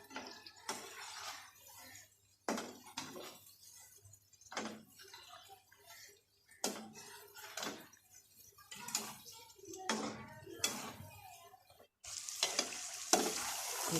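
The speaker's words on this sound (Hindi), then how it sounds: "अरबी ऐड करने के बाद हम इसको अच्छे तरीके से हिलाएंगे।" Fried arbi (taro) being stirred into masala in a pan, with repeated spoon scrapes and soft sizzling in uneven strokes, close and fairly quiet, with a louder hissing burst near the end.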